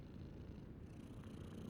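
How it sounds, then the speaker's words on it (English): A stray cat purrs close by, a soft steady low rumble at low volume with no voices over it. "Babe, it's a cat."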